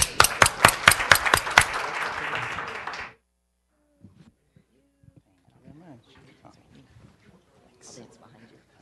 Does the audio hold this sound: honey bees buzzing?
no